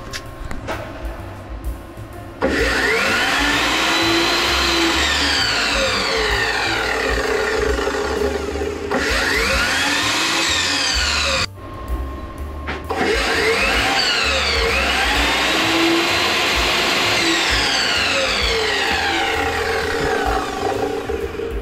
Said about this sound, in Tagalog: 1500 watts na power tools yung cutter ni Predator.